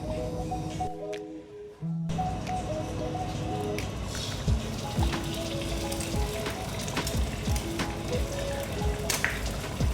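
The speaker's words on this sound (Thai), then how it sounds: "เดี๋ยวเราจะมาทอดไข่ดาวก่อนนะจ๊ะ" A fried egg sizzling in a pan in a home kitchen, a continuous crackling spatter with irregular pops, close and steady after a brief quieter moment near the start.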